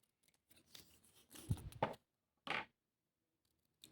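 Scissors cutting while making a paw ring: a few close, quiet snipping and rustling strokes, a sharper snip near the middle, separated by brief silences.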